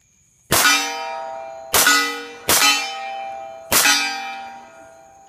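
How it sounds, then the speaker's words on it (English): .300 Blackout subsonic rounds fired from a suppressed 8-inch PDW striking a steel target, four sharp metallic clangs with ringing bell-like decay, spaced irregularly, no talk. "so you can hear the sound without all the steel noise"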